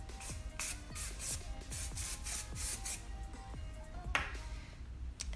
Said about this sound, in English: You can put it afterwards as well.